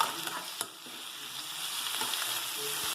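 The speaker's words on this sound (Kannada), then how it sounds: "ಸ್ವಲ್ಪ ಕೆಂಪಾಗೋವರೆಗೂ ಫ್ರೈ ಮಾಡ್ಕೊಳ್ಳಿ" Mushroom masala curry base frying in a pan, a steady, quiet sizzle with a few light stirring scrapes, close up and with no talk.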